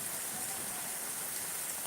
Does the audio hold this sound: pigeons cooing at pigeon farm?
no